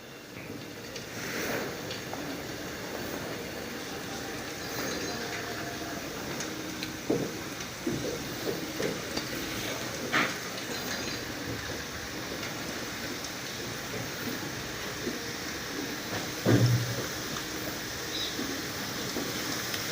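Green chillies fry in hot oil, dropped in one at a time, for sweet stuffed chillies like those sold outside schools. A steady broadband hiss of bubbling oil runs throughout, with a few louder crackles and pops, and no talking.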